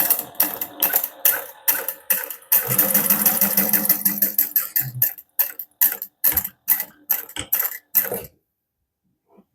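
A sewing machine top stitches a wallet with a 1/8 inch seam allowance, running in a steady whir for about three seconds, then breaking into short separate bursts of stitching with pauses between them, close and clear with no talking.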